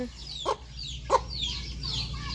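Chickens clucking at a rural farmhouse in the evening, with two short distinct calls standing out over a steady background of birds and insects, moderately close.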